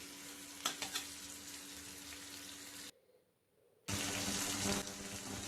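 Potatoes and yardlong beans fry in a pan with a loud, steady sizzle and stirring, broken by a brief near-silent pause before the hissing resumes.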